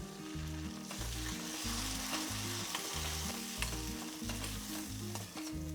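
A spice paste sizzles and crackles loudly in a hot pan, a continuous frying hiss with no voices, while a low repeating hum runs underneath.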